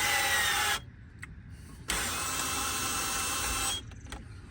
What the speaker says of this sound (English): Ryobi's got this great cinch-ring PEX tool. It's battery operated.